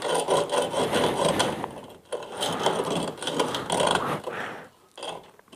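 A hacksaw cuts through a broken Triumph Bonneville motorcycle gear shift lever with close, rasping back-and-forth strokes in uneven bursts, pausing briefly between runs.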